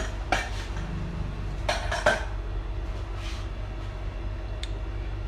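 Rainbow thali ingredients being mixed in a dish, with scattered clinks and scrapes of a utensil against the dish over a low steady background hum, a few sharper knocks standing out.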